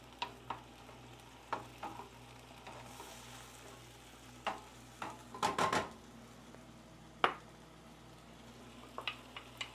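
Peas stirred into a hot skillet for shrimp Clemenceau, with a steady low sizzle under intermittent scraping and tapping of a spoon against the pan, including a brief burst of clatter partway through.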